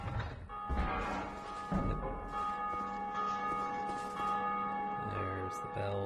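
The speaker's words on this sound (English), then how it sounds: "I think this is the bell." Heavy bells ring repeatedly in Belfry Sol in Dark Souls 2: Scholar of the First Sin, loud sustained metallic tones layered with clanks and thuds, with several tolls overlapping.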